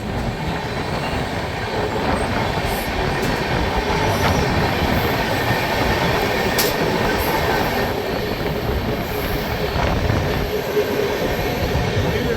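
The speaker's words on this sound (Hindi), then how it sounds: "ये है झांसी कोलकाता प्रथम संग्राम एक्सप्रेस" Jhansi–Kolkata Pratham Sangram Express passing near Sipri Bazaar bridge in Jhansi, a loud continuous roar of wagons and clattering wheels with occasional squeals, sustained close by for the whole stretch.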